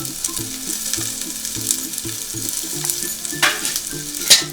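Onions and mint fry in a pan for ghee rice, a close, steady sizzle with stirring scrapes and a few sharper utensil clanks near the end, with background music playing underneath.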